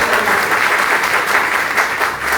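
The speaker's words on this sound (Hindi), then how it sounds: "ताली बजा सकते हैं?" Loud, dense applause from a seminar audience, steady crowd clapping filling the room from start to finish with no speech.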